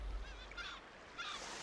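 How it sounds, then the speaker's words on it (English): A flock of birds gathered at a river mouth in Alaska, honking goose-like calls faint and distant over a steady wash of water and wind. "thousands of birds gather at the river mouths"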